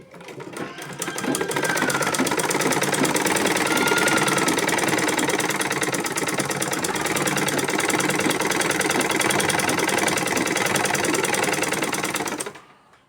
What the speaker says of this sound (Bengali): তো লুঙ্গিটা সুন্দর করে ধরে একটা সেলাই দিয়ে নেব।